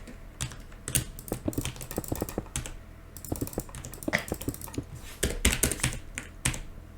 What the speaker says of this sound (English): just typing the command in chat